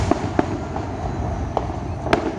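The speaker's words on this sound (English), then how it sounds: "Every year on 4th of July, the old golf course would light off some fireworks." Fourth of July fireworks bursting over an old golf course: several sharp distant bangs at irregular intervals over a steady outdoor background hiss.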